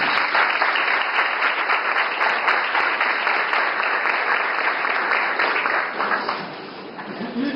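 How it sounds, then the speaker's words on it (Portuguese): An audience at an adult and youth education gathering in Angicos breaks into sustained applause for a speaker, many hands clapping in a thick, even roar that eases slightly near the end. "Uma salva de palmas é muito grande."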